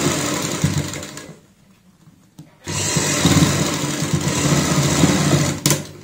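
An electric sewing machine runs a steady stitching pass on a girl's party-wear frock, loud and continuous, breaking off once for about a second before resuming alone.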